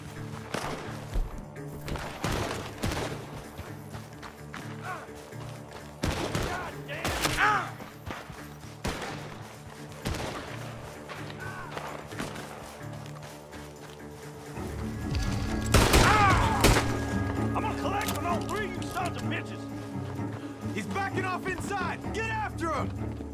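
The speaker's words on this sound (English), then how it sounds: "Shots are coming from that barn!" Gunshots ring out from a barn in a video game, a scattered volley of sharp cracks and thuds that intensifies later, mixed with music and sound effects while voices talk over parts of it.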